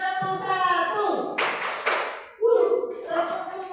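A group claps hands in sharp, unison bursts following a counted pattern, loud and close, with a leader's voice talking between the claps.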